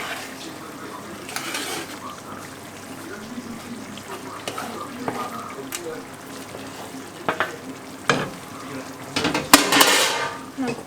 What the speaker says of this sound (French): Et on va mélanger tout ça délicatement pour pas trop écraser les courgettes.